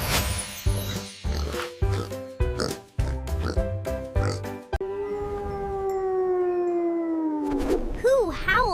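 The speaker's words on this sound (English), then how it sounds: "It's a pig." Pig oinking in a children's animal guessing game, a run of short, rhythmic grunting snorts close up, followed by a long rising and falling howl; a voice speaks over parts of it.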